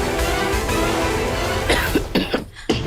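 Dry, repeated coughing from a woman indoors, set off by dust and dirt gathered from shoes and sandals; several short harsh bursts near the end over a steady background of music or room noise.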